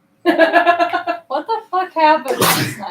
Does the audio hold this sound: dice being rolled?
no